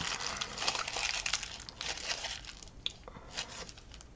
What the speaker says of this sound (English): take your foil and you're just going to crumple it up